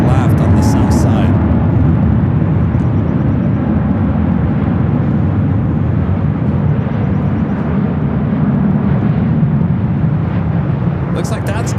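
A jet lands on runway 25 left on the south side of LAX, a loud sustained engine roar that holds steady with a broad rumble, while people talk throughout.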